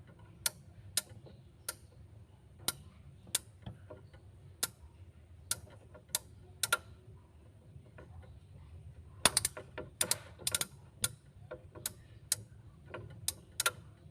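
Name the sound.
refrigerator defrost timer being turned until it clicks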